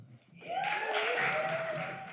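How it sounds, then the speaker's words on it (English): Applause at a university poetry jam swells up after a short quiet start, a warm crowd clapping and cheering that stays full and steady, with a few voices audible within it. "Please give her a warm round of applause, Miss Kia Love."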